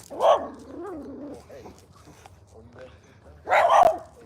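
A little puppy on a nature walk gives two short, high yappy barks, one at the start and one near the end, with soft whining and rustling in between, fairly close.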